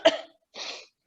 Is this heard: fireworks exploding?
no